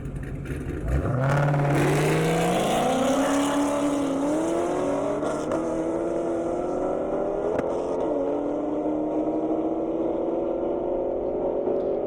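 A 750-horsepower Dodge Hellcat and a 730-horsepower Chevrolet Camaro race on an airstrip, one loud engine revving hard and climbing through the gears in a long sustained wail.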